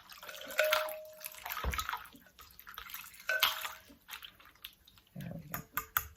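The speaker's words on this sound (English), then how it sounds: "I am going to add some cold water." Cold water poured over cut sweet potatoes in a kitchen, splashing and trickling in uneven bursts with a brief steady tone early on, fairly close and moderately loud, ending in a heavier low gush.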